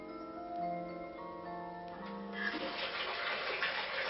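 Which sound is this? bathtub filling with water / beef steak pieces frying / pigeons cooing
bathtub filling with water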